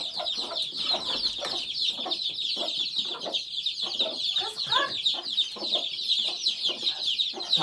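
Hens clucking among a crowd of chicks, with constant high peeping from many chicks layered under repeated nearby clucks from a few adult chickens.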